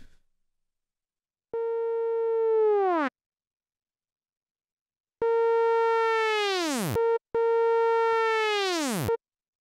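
Psytrance bass synth patch built in FL Studio with a resonant filter, three sustained buzzy harmonic-rich notes whose filter sweeps open and brighten, played alone with no talk, loud and close.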